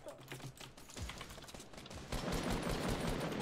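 Rapid gunfire from a Fortnite match crackles as fast, dense bursts, building into a heavier sustained volley toward the end, with no talking.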